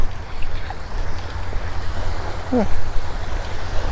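Waves wash steadily along a long open beach, a constant broad roar of surf mixed with wind, with a person briefly making a short sound partway through.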